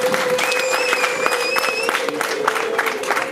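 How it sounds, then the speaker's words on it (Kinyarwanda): Applause and ululation ring out at a Rwandan wedding celebration for Bahati and Cecile, steady clapping from a crowd with long, wavering high trills sustained over it for a few seconds. "tubakomera amashyi n'impundu mbyeyi zishimira uyu munsi"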